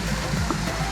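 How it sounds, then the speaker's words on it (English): Waterfall at Nara Inlet pours steadily in a dense, broadband rush of water, loud and continuous throughout with no pauses. "What a beautiful waterfall."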